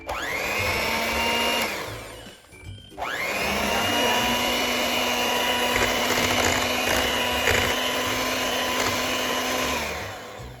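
Electric mixer beating chocolate cheesecake batter, a loud steady motor whir that stops briefly, restarts and runs continuously before winding down at the end.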